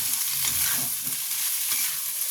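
Flattened rice (chira) being stirred in a hot pan for chirer polao, giving a steady close scraping and soft sizzle that runs without pause for a couple of seconds, with no voices.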